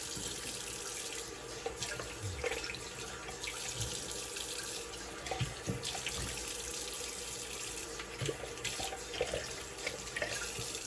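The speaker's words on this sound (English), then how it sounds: "And I'll let that sit, and then I'll just rinse it off." Tap water runs steadily into a sink as Mitchell's Wool Fat shaving soap is rinsed off, a soft continuous splashing with occasional faint knocks, heard alone and at low level.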